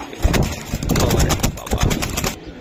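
Racing pigeon making soft coos and fluttering, irregular bursts close by, with faint human talk in the background.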